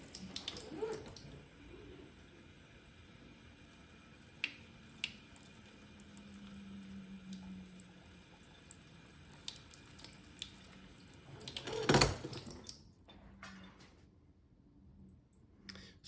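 Tap water runs steadily into a kitchen sink fitted with a silicone splash guard, a soft quiet splashing and draining with a few small knocks and a brief louder gush near the end.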